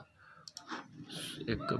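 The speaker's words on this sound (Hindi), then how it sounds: "सूबे पे एक दफ़ा क्लिक करता हूँ" A computer mouse clicks a few times during an online registration form, small sharp ticks heard under ongoing speech.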